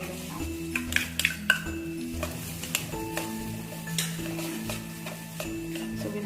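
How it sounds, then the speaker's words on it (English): Chopped onions hit hot oil with cumin seeds in a pan, giving a continuous sizzle and frying crackle under repeated close clinks and scrapes of a spoon stirring against the metal. "we will add finely chopped onions"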